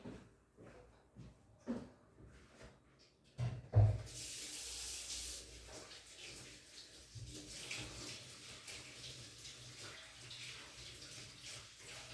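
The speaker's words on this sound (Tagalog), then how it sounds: "Hugas muna tayo ng kamay." Tap water runs steadily while someone washes their hands in a sink in Cyprus, with a few clatters and knocks before the flow turns into a continuous gush.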